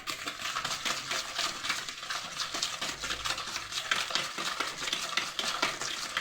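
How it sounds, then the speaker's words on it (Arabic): Sugar, lemon zest and egg being mixed in a bowl for baked sweet harcha, with quick repeated scraping and clinking strokes at a steady pace, close up with no voices. "نخلط السكر وقشر الحامض وبيضه"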